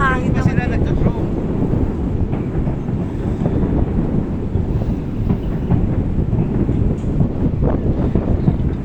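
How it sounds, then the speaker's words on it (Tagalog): Steady wind rushes across the microphone at a national day fireworks display in Hong Kong, a constant broadband roar lasting throughout, with people talking faintly beneath it. "Ang hangin"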